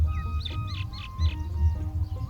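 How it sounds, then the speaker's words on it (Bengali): A myna perched on a silk cotton tree branch gives a series of sharp, chirpy calls, about four in quick succession, over a low steady rumble in the background. "শিমুল গাছের ডালে বসে ডাকছে একটি শালিক পাখি।"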